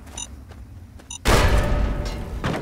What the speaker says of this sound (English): There's that explosion again.